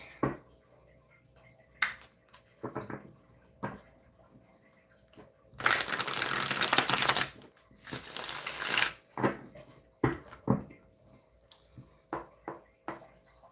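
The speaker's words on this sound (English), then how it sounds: "Just gonna shuffle the deck." A deck of tarot cards being shuffled, with scattered light taps and rustles, then two longer bursts of riffling in the middle, followed by more short shuffling sounds, fairly faint.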